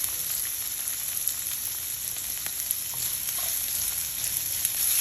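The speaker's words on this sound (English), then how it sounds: "Okay, so we're gonna cook the onions thoroughly here first." Chopped onions fry in about a tablespoon of hot oil in a pan, giving a steady, close sizzle that runs unbroken with no talking.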